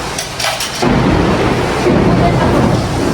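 A rumble of thunder breaks in, followed by a steady hiss of heavy rain falling close by.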